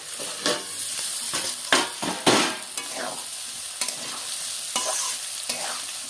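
Mixed vegetables stir-fried in a kadai, oily sizzling under repeated scraping strokes of a spatula, close and fairly quiet, with no talk.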